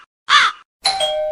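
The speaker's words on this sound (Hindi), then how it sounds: "बज गई घंटी, लगता है कि आ गई बिटिया रानी।" A two-tone doorbell chimes at a home's front door: a brief bright first note, a pause, then a second ringing tone that sustains and fades.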